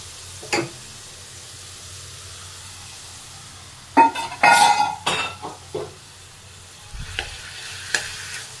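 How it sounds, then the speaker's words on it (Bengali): Spice paste (masala) being sautéed in a pan for a banana-flower dish, heard as a soft low sizzle with a few sharp utensil scrapes and clinks against the pan, clustered in the middle and near the end. "মশলাটাকে কষাবো"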